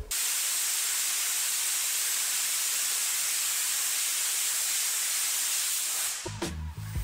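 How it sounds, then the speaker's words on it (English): A compressed-air blowgun in a shop hisses loudly and steadily over a screwdriver, a continuous broadband blast that cuts off near the end, leaving brief clunks and handling sounds. "By using high compressed air from my shop with a blowgun and a screwdriver, this will show you the perfect effect of a venturi"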